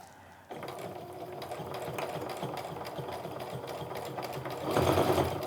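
A sewing machine runs steadily through bulky wristlet fabric at a slow, even pace, its needle thumping in a regular rhythm that picks up slightly near the end, close and alone with no talk.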